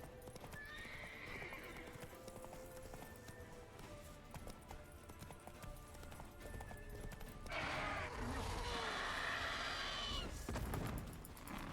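Horse galloping in the video game Witcher 3 during a griffin hunt: steady, rapid clip-clop hoofbeats run throughout, with a loud neigh and game effects swelling near the end.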